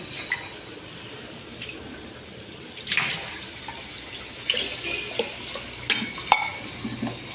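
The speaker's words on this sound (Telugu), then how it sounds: "2 గ్లాసులు నీళ్ళు పోస్తానండి" Two glasses of water pour into a pressure cooker with washed brown rice, running and splashing in short bursts, with a few louder gushes near the end, fairly close by in a quiet room.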